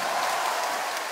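A large crowd at a rock concert in Erfurt claps in a brief, dense wash of hand noise that stays steady and fairly loud throughout.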